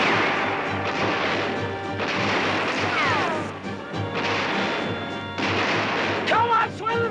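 Black-powder gunfire in a 1978 frontier adventure film, loud crashing, echoing shots over a continuous noisy din with shouting voices layered on top.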